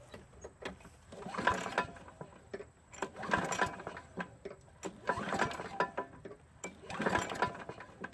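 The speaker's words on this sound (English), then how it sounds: "Let's go ahead and prime it and try to start it." A primed Craftsman push lawn mower with a dirty air filter is pull-started four times at a steady rhythm, each pull giving a rattling surge that fails to catch, close and fairly loud.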